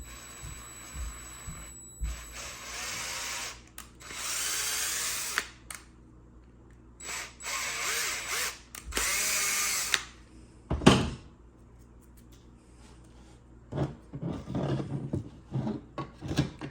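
Holes are drilled in 1/6 scale tracked bulldozer model parts with a small power drill, running in repeated bursts of whirring separated by pauses, with handling knocks and clatter between them. The sound is close and there is no talk.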